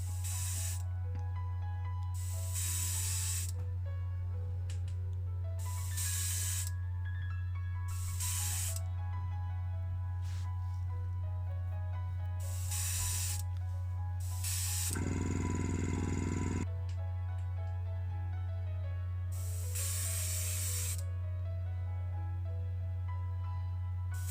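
Short bursts of aerosol spray paint laying a light coat on a Matchbox 1986 Skoda 130 LR die-cast model, roughly eight hissing puffs of varying length, one longer burst midway, over a steady low hum.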